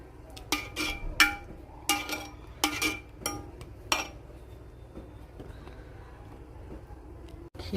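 Wheat kheer with coconut milk stirred in a pot, a spoon scraping and clinking against the metal in a run of sharp, close strokes that thin out into quieter stirring.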